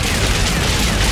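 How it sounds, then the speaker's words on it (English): Dense, continuous gunfire in the shooter game Outriders, a loud sustained barrage of overlapping shots with no gaps, heard alone without talk. "So many bullets."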